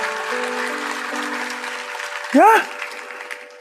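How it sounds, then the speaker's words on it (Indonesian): A church congregation applauds during a sermon, a diffuse layer of clapping that fades gradually, cut across by a single loud, short vocal exclamation near the end. "Kasih tepuk tangan untuk Tuhan Yesus."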